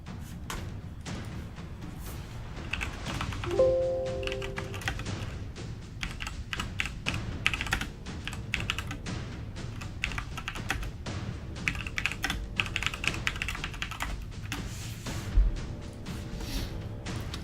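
Continuous typing on a computer keyboard, close and busy, with irregular key clatter and a few heavier thumps and taps mixed in.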